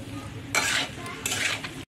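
A spoon stirs masala, small tomatoes and water in a metal cooking pot, two bursts of scraping and clattering with a soft sizzle beneath, close and fairly loud.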